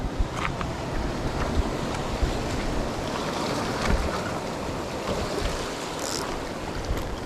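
Steady rushing wash of ocean waves against a fishing boat in big swells, with wind buffeting the microphone throughout and no talking.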